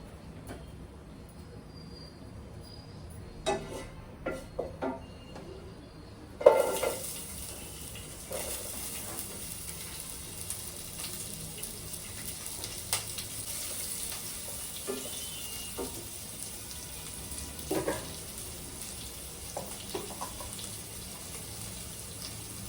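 Sliced onion and finely cut green chilies frying in a pan, a faint, steady sizzle that starts after a few clunks and a louder drop into the pan, with occasional stirring knocks.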